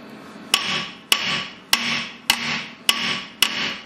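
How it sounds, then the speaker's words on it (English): A hammer strikes the side of a Renault Twingo front brake disc to free it, six sharp metallic whacks at an even, roughly half-second pace, each ringing briefly before the next. "So just a couple of whacks on the side of the disc, just to free it up."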